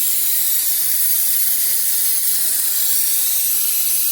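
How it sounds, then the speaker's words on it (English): Air and brake fluid bleeding from an opened left rear brake caliper during a brake flush, a steady close hiss that holds evenly for the whole stretch with no talk. "I've opened up the left rear caliper, and I'm pulling all the air out right now"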